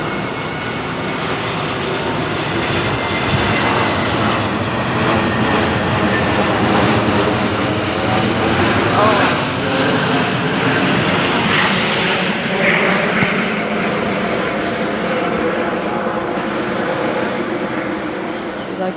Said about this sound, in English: so that they can keep the planes going over your head